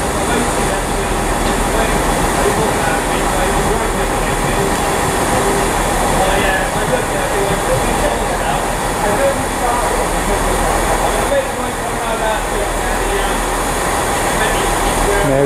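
A train pulls out of Bristol Temple Meads station, giving a continuous loud rumble with rail noise and faint squeals throughout. A voice speaks briefly over it.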